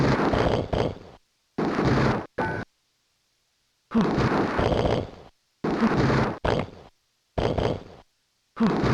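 A boss blows up in the classic Macintosh action game Operation Tsunami: a series of loud, roaring digital explosion bursts, each about a second long, separated by abrupt silences.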